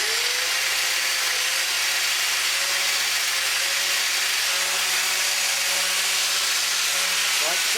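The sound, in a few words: angle grinder with grinding wheel dressing a wire wheel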